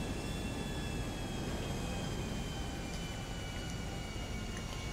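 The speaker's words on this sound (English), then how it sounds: "Oh, hi, helicopter." A helicopter flying near the Maze Bank tower in GTA makes a continuous broadband rotor and engine roar, steady and fairly loud throughout, with no talking.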